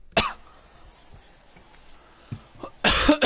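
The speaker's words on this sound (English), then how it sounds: "I just had a cough." A short sharp cough lands near the start, followed by a quiet pause and then a louder burst of coughing and throat clearing, heard close and alone.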